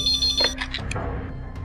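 A telephone rings with an incoming call from a police station, giving a short electronic ring burst followed by a few quieter tones and background room noise; no speech.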